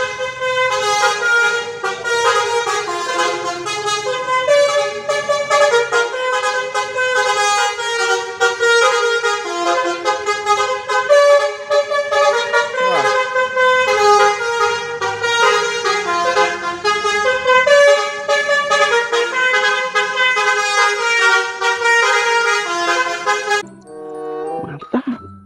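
A passing Tunggal Jaya intercity bus sounds a loud musical horn, a continuous run of bright, shifting tones lasting over twenty seconds before cutting off abruptly.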